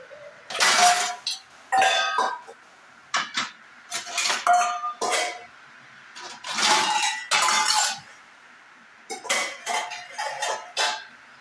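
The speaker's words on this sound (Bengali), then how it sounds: "দেখো এখানে একটা কড়াইয়ে বসিয়ে দিলাম," A metal wok is set on a gas stove and handled, giving a series of loud clanks, scrapes and clinks of cookware in irregular bursts separated by short quiet gaps.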